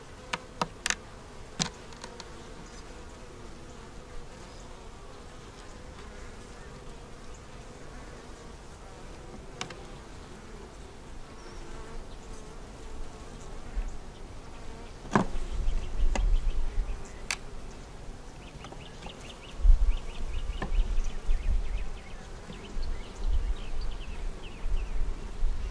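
Honeybees buzz around a nuc frame loaded with nectar, pollen and brood during a single-nuc hive inspection, a steady close droning hum with occasional louder passes and handling bumps.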